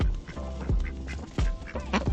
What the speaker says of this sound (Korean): 암컷 오리 한 마리가 옆에 와서 말려보지만 소용없어 보인다